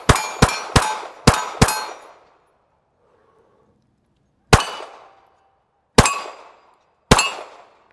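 A Diamondback AM2 9mm pistol fires outdoors at steel targets: five rapid sharp cracks with ringing metallic tails, a pause, then three more evenly spaced shots, each loud and decaying quickly.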